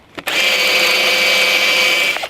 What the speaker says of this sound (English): I'm gonna drill a corresponding hole in the lever.